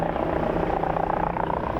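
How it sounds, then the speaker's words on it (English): A helicopter flies in strong winds over 80 km/h near the Skerryvore lighthouse, its engine and rotor a loud, continuous droning roar with a steady fluttering pulse. "Rob, who is in control of the helicopter in winds reaching over 80 kilometers an hour"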